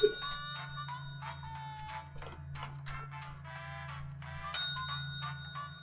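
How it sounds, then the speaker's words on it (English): A bell rings in quick repeated strikes, a bright metallic trill that keeps going for several seconds over a low steady hum, loud and close, with no talking. "That bell's really loud in my ear,"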